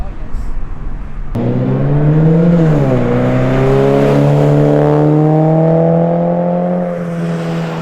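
A Toyota GT86 with a Remark axleback exhaust cold-starts with a sharp crack and settles into a loud, deep throaty drone that rises and falls with revs, close up.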